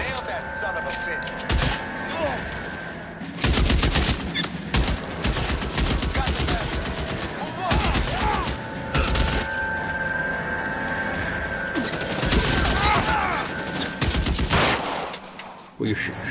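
Rapid bursts of gunfire in the video game L.A. Noire, loud crackling volleys repeating across the scene with brief pauses, with someone talking over the shooting.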